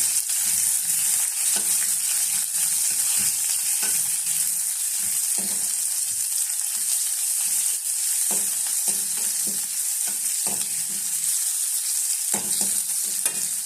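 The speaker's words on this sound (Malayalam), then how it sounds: "2-3 ചെറിയ ഉള്ളി അരിഞ്ഞ് ചേർത്ത് ഇതെല്ലാം കൂടി നന്നായിട്ടൊന്ന് വഴറ്റിയെടുക്കാം" Shallots, curry leaves and chillies sauté in a pan with a steady hissing sizzle throughout, while a spatula makes occasional light scrapes and taps nearby.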